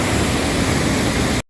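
Thundering roar of the Scarface waterfall plunging into a canyon in western Iceland: a loud, steady wash of falling water that stays constant and then cuts off abruptly.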